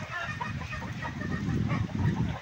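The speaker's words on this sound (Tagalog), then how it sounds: "Native na manok." Native chickens cluck and squawk in a steady, busy stream close by, with several birds overlapping and no talking.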